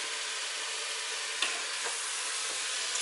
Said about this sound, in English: just give it a stir every now and then, because you want to really cook those vegetables